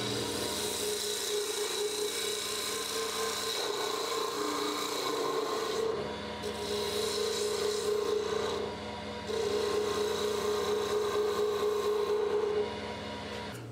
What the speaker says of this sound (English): you can tell that it cuts much more cleanly than the spindle roughing gouge